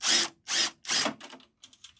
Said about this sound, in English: let's use our trusty power tool, and we're gonna take this first thing off